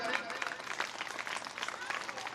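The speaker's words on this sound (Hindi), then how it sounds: "तालियों के साथ स्वागत करें" Applause from a crowd at a school fair and festival welcomes a local official, a fairly faint, continuous patter of clapping heard from a distance across an outdoor gathering.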